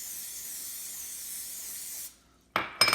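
Cooking spray sprayed into a mug, a continuous close hiss lasting about two seconds, then a brief pause and two short sharp spurts with light clinks.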